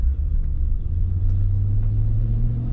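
Car with a 4L60E automatic transmission driving in first gear, a steady loud low engine and drivetrain drone with a sustained hum, close and continuous with no talk.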